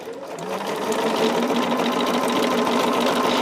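A sewing machine fitted with a dual control foot stitches over a thick quilting seam, a loud steady mechanical whirr with rapid needle rhythm that ramps up at the start and runs continuously.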